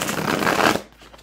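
A powdered tarot card deck being shuffled, a brief loud riffling flutter of cards that stops abruptly and leaves faint room noise.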